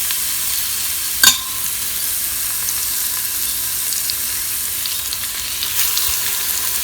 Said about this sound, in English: we are going to brown our seasoned pork pieces in the hot olive oil